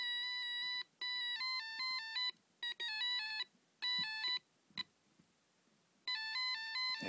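A homemade electronic tone generator plays a warbling, ringtone-like pattern of alternating pitched beeps through a loudspeaker, in several bursts separated by short pauses, loud and clear with no talking.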